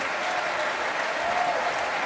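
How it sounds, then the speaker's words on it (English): Audience applause after an RTÉ National Symphony Orchestra concert performance, a steady, dense clapping from a large hall crowd that stays loud and even throughout. "to acknowledge the applause of the RTÉ National Symphony Orchestra"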